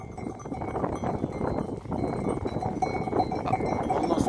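Cowbells clink and jingle irregularly among a herd of goats being brought to water nearby, with scattered hoof clatter and outdoor background noise.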